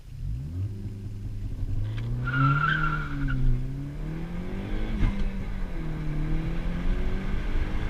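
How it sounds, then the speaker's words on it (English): A car launches using launch control, its tires screeching loudly over a rising engine rev and rumble, close and sustained for several seconds. "because you heard the tires screeching"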